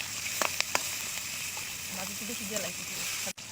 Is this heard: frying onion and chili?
yes